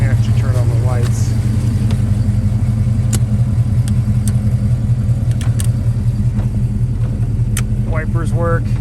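A 1976 Chevrolet Camaro's engine idles steadily with a low, constant rumble close by, while someone talks over it and a few small clicks from switches come through.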